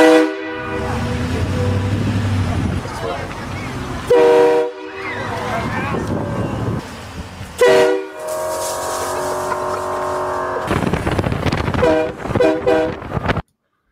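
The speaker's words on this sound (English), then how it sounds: "He puts a train horn in his truck. And goes around and scares people." Loud, blaring train horn mounted in a truck blasts repeatedly at close range, several long honks separated by brief pauses, with voices around them.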